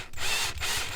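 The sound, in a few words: screws being driven back in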